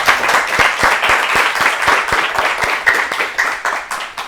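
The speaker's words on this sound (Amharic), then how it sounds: "ለ አጨብጭቡላት።" A studio audience at a children's quiz show claps for a contestant, a loud, close burst of applause with a steady, even rhythm that keeps going throughout, with no voices over it.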